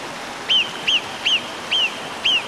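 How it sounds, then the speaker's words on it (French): Five loud, evenly spaced honking bird calls ring out one after another on a foggy mountain hike beside a small torrent, each a short sharp cry over a faint background. "Un cri d'oiseau, fameux."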